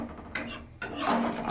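Cumin and chilli powder being stirred in a pan for a pabda fish curry: a few soft scraping strokes of a spoon against the pan, close and fairly quiet.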